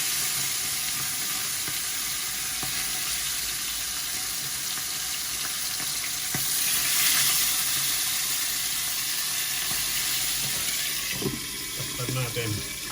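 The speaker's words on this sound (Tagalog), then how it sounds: "Prito ako ng isda doon." Sea bass fries in a pan with a steady, continuous sizzle close by, with clinks of utensils and brief voices in the background.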